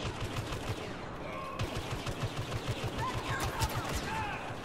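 Gunfire in the Star Wars Battlefront beta rattles in steady, rhythmic bursts, moderately quiet and sitting under overlapping game noise throughout.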